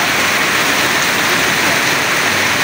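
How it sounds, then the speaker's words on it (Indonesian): Heavy rain pours at Genuk market in Semarang, a dense, loud, unbroken hiss of water falling on roofs and pavement with no pauses. "malah hujan deras ini teman-teman di Semarang Genuk ya"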